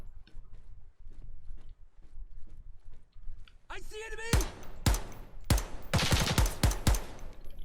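Gunfire in the tactical shooter Ground Branch: a tense stretch of quiet movement, then a sharp burst of several loud close rifle shots in quick irregular succession, with a voice speaking in between.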